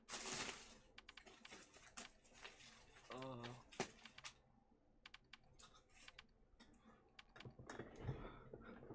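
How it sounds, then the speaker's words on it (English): Rapid keyboard clicks from typing in the game GTFO tap away in uneven bursts, with a few louder key strikes and some brief tonal blips mixed in. "I like how it does the sounds of you typing."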